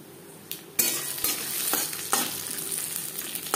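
Peanuts frying in a spice tempering for masoor dal khichuri, stirred with sharp spoon clinks and scrapes over a bright, steady sizzle that rises after the first strokes, close up.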